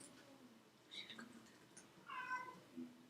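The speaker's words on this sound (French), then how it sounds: "oui, j'ai un chat" A cat meows several times, faint and a bit distant, with drawn-out wavering cries between quieter background noise and no clear speech.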